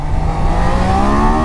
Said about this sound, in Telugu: నేను ఇప్పుడు ఫుల్ థ్రాటిల్ ఇస్తాను.